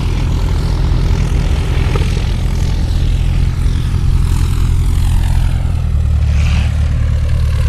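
A Stearman biplane's propeller engine drones steadily at an air show at Bienenfarm airfield, a loud, continuous rumbling roar that carries through the whole stretch.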